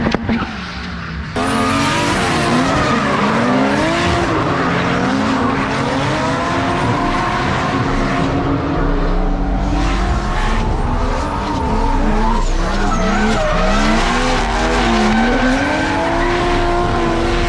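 Drift cars skid around a dry track, their engines revving hard and wailing up and down beneath long, continuous tire squeal. Loud and sustained, with nearby cars passing throughout.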